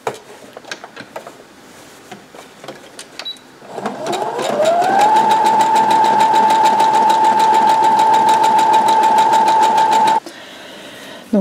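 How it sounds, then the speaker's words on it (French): An overlocker stitches along a fabric edge for a dress, spinning up quickly into a loud, rapid, even mechanical chatter that holds steady for several seconds before stopping abruptly, with quieter handling clicks before and after. "on va juste faire une petite surpiqûre"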